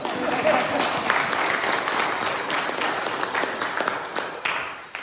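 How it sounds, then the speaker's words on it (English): A church congregation claps together at an Easter service, steady applause filling the room for about five seconds with some voices mixed in. "I think we should clap for Marlo."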